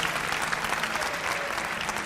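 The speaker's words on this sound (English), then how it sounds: "Big round of applause for Mr. George Noory, please" An indoor audience at Talk Fest 2008 applauds George Noory, dense steady clapping that stays loud and close for the whole stretch, with no talking.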